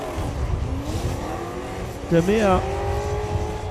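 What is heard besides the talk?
drift cars revving through chicane at Emirates Drift Championship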